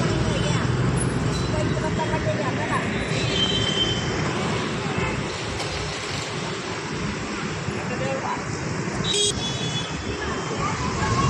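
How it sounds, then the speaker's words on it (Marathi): Steady roar of road traffic on a busy street beside a vegetable market, loud and continuous throughout with a brief horn-like toot near the end. "खूप आवाज आहे गाड्यांचा वगैरे, कारण वाहता रस्ता आहे ना हा"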